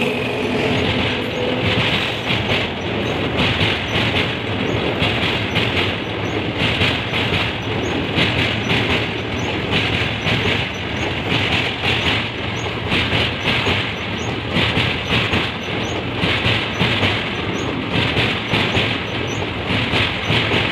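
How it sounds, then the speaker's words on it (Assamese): An electric train rolls past, its continuous loud roar carrying steady rhythmic clatter of wheels over rail joints for the whole stretch, with no talk. "এইটো কাৰেণ্টৰ ৰেল হয়।"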